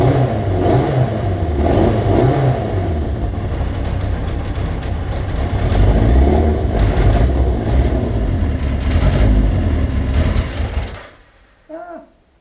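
A motorcycle being rebuilt as a cafe racer, its engine running loud and close with a rough, uneven revving roar after being cranked on the starter, then cutting out abruptly near the end.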